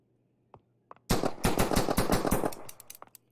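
Game gunfire from the Sansar VR tutorial at targets: two isolated sharp shots, then a dense burst of rapid automatic fire for about a second and a half, trailing off into a few scattered single shots.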